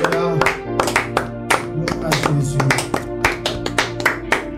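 Church congregation clapping together during worship, a loud, dense run of many hands in a steady rhythm, with a low hum of voices and music underneath.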